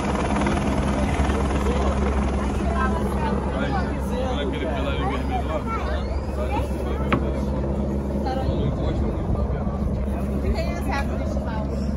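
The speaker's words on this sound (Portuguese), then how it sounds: "helicóptero." A helicopter's steady rotor drone fills the air throughout, loud and continuous, with children and adults chattering in the background.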